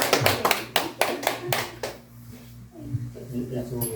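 Church congregation clapping during a Sunday worship service: several sharp claps in a loose rhythm that stop after about two seconds, followed by quieter room sounds and a low hum.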